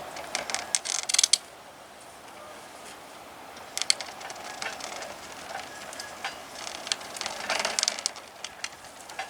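A well pump on PVC drop pipe is lowered into a 300-foot well, giving creaking, clicking mechanical sounds and scattered knocks over a low background, irregular and moderately close, no talking.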